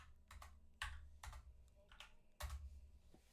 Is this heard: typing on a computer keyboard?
yes